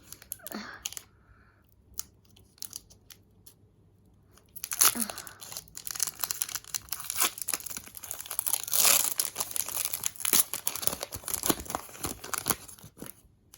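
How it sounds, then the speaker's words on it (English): A Pokémon Sword and Shield Battle Styles booster pack wrapper is torn open up close, first with a few soft crinkles, then a long stretch of loud, busy foil crackling and ripping. "So let's open this up."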